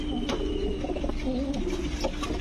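German Beauty pigeons coo in a cage, several soft repeated low coos close by, with a faint steady hum and occasional rustles behind them.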